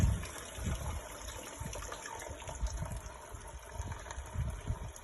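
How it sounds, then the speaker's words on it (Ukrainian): Water trickles and drains softly from a wrung wet homemade fuel briquette mixture, a quiet uneven dribble close by. "Зараз водичка збіжить"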